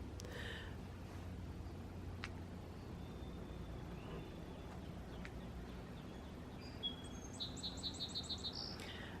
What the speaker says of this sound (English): the birds are out and they're just singing